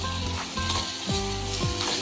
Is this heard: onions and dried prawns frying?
yes